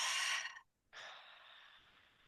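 A long, deep breath drawn in through the nose or mouth, a brief pause, then a steady airy inhale that continues softly to the end.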